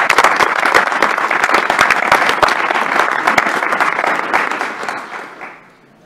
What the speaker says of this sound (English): let's give our two vice presidents and President Cross a round of applause.